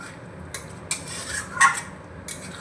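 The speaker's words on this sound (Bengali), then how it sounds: "নাড়িয়ে একটু এইভাবে জাস্ট মিশিয়ে নেব" A spoon stirs aloo biryani with shahi garam masala in a pot, producing a few brief scraping and clinking strokes against the metal over a low background.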